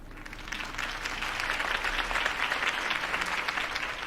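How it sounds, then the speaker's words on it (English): A crowd in the video game Batman: The Telltale Series claps and cheers in sustained applause, dense and steady throughout, moderately loud. "could have heard that applause"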